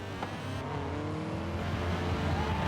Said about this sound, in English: Honda's bloody loud, isn't it?